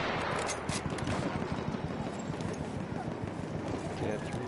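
Horse hooves clop in a first-person shooter battle, a busy galloping rhythm mixed with gunfire and close voices talking over the action.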